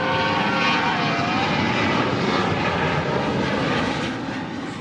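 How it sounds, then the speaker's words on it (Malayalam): A fixed-wing airplane passes low over a college campus beside Karipur airport, its engine roar a loud, steady broadband rumble throughout, easing slightly toward the end, with no voices. "വിമാനങ്ങൾ പറന്നുയരുന്നത് കലോത്സവം നടക്കുന്ന ക്യാമ്പസിന് മുകളിലൂടെയാണ്."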